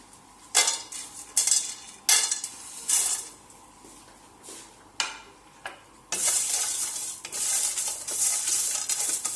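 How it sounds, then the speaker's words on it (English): Garam masala dry roasting in a pan, with bursts of scraping and stirring against the metal, then a steadier rustling, sizzling rattle in the last few seconds. "we will dry roast this garam masala and we will make powder of it"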